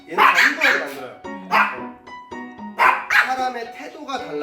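A small dog barks at a doorbell indoors, loud close yips and barks in bursts with short gaps, some sounding strained and whiny.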